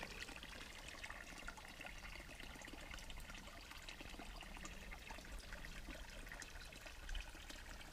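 Spring water spills steadily out of the ground on a wet Appalachian Trail mountainside near a shelter, a continuous close trickle and splash with no pauses or voices.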